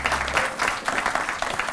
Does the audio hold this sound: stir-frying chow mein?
no